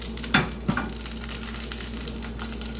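Garlic frying in a hot pan as leftovers are reworked, a steady broadband sizzle with two brief clinks or stirs early on, close and continuous, no talk.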